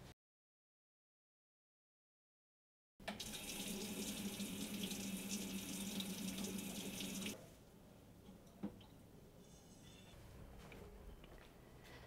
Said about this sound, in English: You simply put the cooker in the sink and run it under cold water to release the pressure.